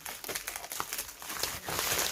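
Bubble wrap crinkles and rustles as a parcel from an online order is unpacked, with dense, irregular crackling bursts close up and continuing throughout, with no voices.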